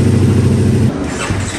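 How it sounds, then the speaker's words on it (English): A Ducati Multistrada V4 motorcycle engine with no exhaust fitted turns over and catches, a loud steady low rumble that drops to a rougher idle partway through, close by. "As you'll hear on the startup,"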